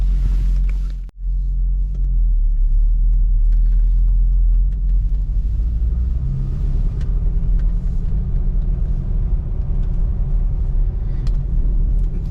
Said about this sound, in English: let's go ahead and take this thing for a spin so you can see how you would look driving your C6 Corvette